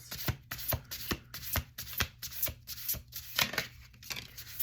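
Cards are riffle-shuffled repeatedly in quick crisp flutters, close and fairly quiet, with no talking.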